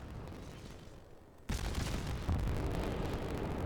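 Naval guns in World of Warships open up, and an explosion destroys an enemy cruiser. The blast hits suddenly after a quiet lead-in, followed by a sustained heavy rumble and a second loud burst.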